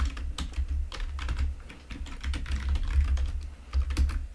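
Fast typing on a computer keyboard, close and clear, with bursts of rapid key clicks and short pauses between words, no voices.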